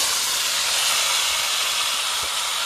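Bay leaves, dried red chillies and whole cumin seeds sizzle in hot oil for a Bengali fish-head khero ghonto, a steady, dense, close hiss running unbroken throughout with no speech.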